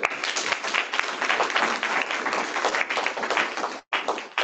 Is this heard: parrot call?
no